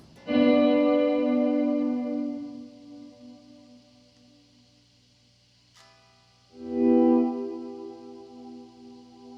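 Sustained guitar notes pass through a Death By Audio Rooms reverb pedal with gate and depth control, two swelling, harmonically rich chords each ringing out and decaying into a lingering wash, with a faint click between them.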